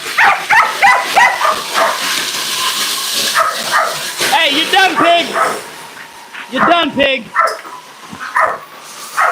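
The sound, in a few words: dog barking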